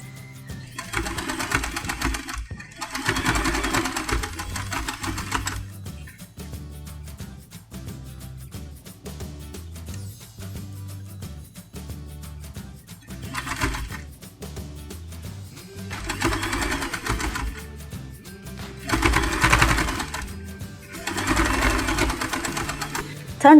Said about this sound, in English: Fold this fabric in half and sew these parts.